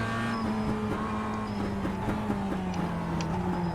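Mazda MX-5 Cup race car running damaged at Lime Rock Park in iRacing: a steady, close engine drone with a clear harmonic whine that slowly drops in pitch, continuous throughout with no talking.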